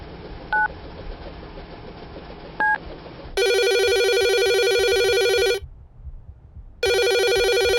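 A telephone gives two brief beeps and then rings loudly in two long electronic bursts separated by a short gap, up close and with no voices.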